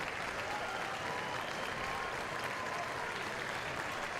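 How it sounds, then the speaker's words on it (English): A home crowd at an LSU baseball game cheers and claps in a steady, dense roar that holds unbroken throughout. "Home crowd again try to cheer on Grant Taylor."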